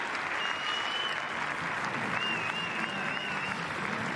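A crowd at a padel tournament's semi-final match point bursts into sustained loud applause and cheering, with high whistles cutting through the clapping.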